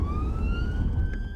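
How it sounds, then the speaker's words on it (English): A police car siren wails with a steady rising tone during a knife crime team patrol in St Anne's, heard close and loud over a low rumbling engine and road noise. "time for blue lights and sirens as they spot another suspect"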